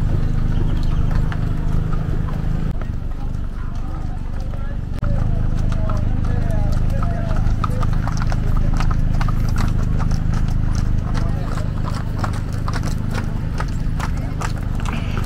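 Horses walk with steady, overlapping hoof clip-clops at a women's horseback riding procession for a quinceañera, close and loud, with a whinny and people talking and calling out over the hooves throughout.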